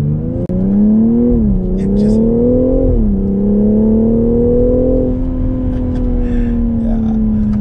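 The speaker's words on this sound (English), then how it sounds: "it's got an M Sport exhaust, which cracks" A BMW X4 M40i engine drones loudly and steadily nearby, its pitch rising and dipping as the M Sport exhaust revs and cracks under acceleration.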